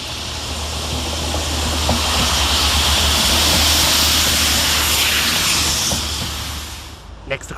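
A Railhead Treatment Train, units DR98967 and DR98917, rolls through Cradley Heath railway station as a loud, steady broadband roar and hiss that swells and fades over several seconds, ending with a few sharp clanks.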